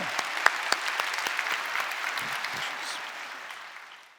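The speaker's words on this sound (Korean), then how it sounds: "우리 다시 한번 우리 인사하실 때 박수로 축복해 주시기 바랍니다" A church congregation applauds during a Sunday worship service, a steady wash of many hands clapping at once that slowly fades over a few seconds, heard alone without speech.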